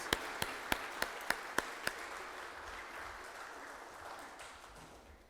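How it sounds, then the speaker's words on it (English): Audience at a library foundation event applauds military families, opening with several sharp, evenly spaced close claps before blending into a softer, thinning crowd applause that fades out. "Let's give them a round of applause."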